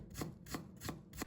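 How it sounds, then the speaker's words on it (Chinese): A knife chops fresh ginger into thin shreds on a cutting board, four evenly spaced, crisp strikes in steady rhythm, close and isolated. "再准备1块生姜，切成薄片，然后改刀切成姜丝"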